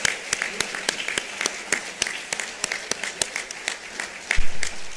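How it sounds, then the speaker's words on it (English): An audience at a volunteer award ceremony claps for an honoree, distinct sharp claps in a loose steady rhythm, fairly close, with a brief thump near the end. "Let's clap one more time for him"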